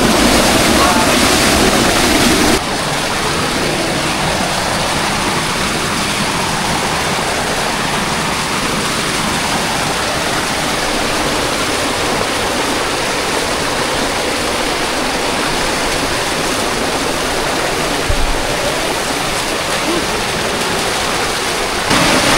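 Strong, clear river current rushing loudly and continuously, a dense broadband roar of flowing water heard close by, filling the whole stretch with no pauses.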